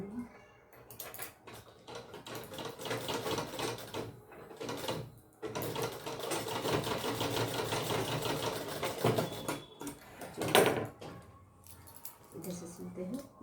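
A sewing machine stitches a lehenga in bursts, its needle clattering in rapid runs that stop and restart, with someone speaking between and over the stitching.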